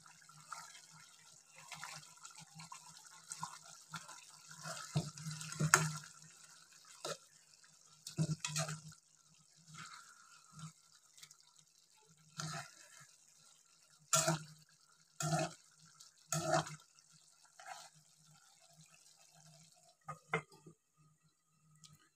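Water is poured in short splashing bursts into a cooking pot of fish roe with bottle gourd, intermittent gurgles and trickles up close over quiet kitchen background, with no talking.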